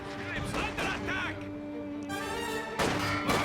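Mortar fire in the World War II strategy game Company of Heroes 2, a 120mm mortar: heavy thudding impacts and crashes under ongoing battlefield noise, with a sharp burst near the end.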